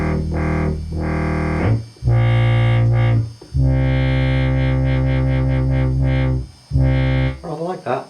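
Synthesizer transwave played through a 4-pole low-pass filter, sounding as loud, buzzy sustained notes in several separate phrases, with the tone sweeping and shifting as the filter moves, ending in a warbling tail.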